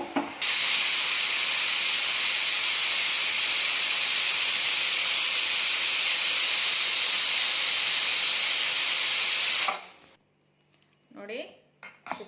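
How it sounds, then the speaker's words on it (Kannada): A pressure cooker on a gas stove lets off a loud, continuous hiss of steam close by for about nine seconds, then cuts off abruptly, followed by a short stretch of quiet and brief talking. "ನೋಡಿ, ಕುಕ್ಕರು ಸಿಟಿ ಹೊಡೆದಿದ್ದಾಗಿದೆ."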